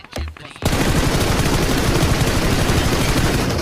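Sustained automatic DP-28 gunfire in the mobile battle royale game BGMI, Livik mode, loud and continuous after a short quieter start, a rapid unbroken burst of shots filling the clip.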